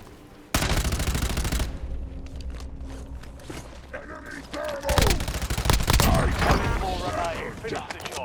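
Rapid gunfire in Call of Duty Warzone, with bursts of automatic shots, mechanical clicks and creaks, and footsteps, loud and close, mixed with excited talking.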